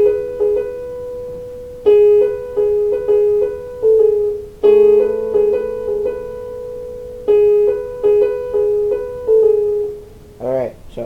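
Solo piano playing the melody of a song in a tutorial setting, clear repeated notes and short phrases with sustained chords, close and fairly loud, no talking over it.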